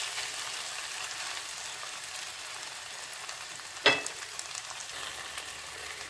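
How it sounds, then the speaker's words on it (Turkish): Grated potatoes fry in a small amount of oil in a pan for a potato omelette, giving a steady, even sizzle with one brief louder crackle partway through. "Rendelediğim patatesleri kızarttım, yağın içine alıyorum."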